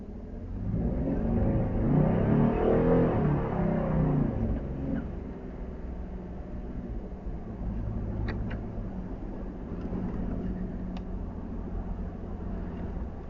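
A Ford car doing a burnout: a loud engine roar rising and surging over the first few seconds, then a sustained lower rumble with faint squeaks.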